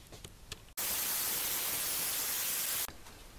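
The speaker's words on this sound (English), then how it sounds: "So I'll dry that with a hairdryer" A hairdryer blasts steady, loud hiss-like air for about two seconds while drying watercolour paper, switching on abruptly and cutting off just as sharply, with quieter room sound either side.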